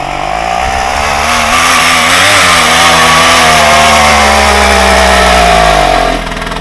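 A Krot motor cultivator, a small single-cylinder two-stroke machine working in winter snow, revs loud and close with a buzzing, rising-and-falling engine drone that holds for several seconds before easing off.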